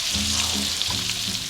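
Onion sizzling steadily as it sautés in a pan beside other food for a sweet potato hash, a continuous bright frying hiss with low hum underneath, close and alone.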